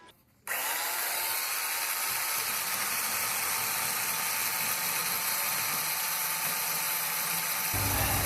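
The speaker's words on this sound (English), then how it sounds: "I'm whittling it down with this detail sander" A detail sander works steadily on stair tread trim, a continuous close buzzing drone that starts abruptly after a brief quiet moment and runs unbroken, with a slight shift in tone near the end.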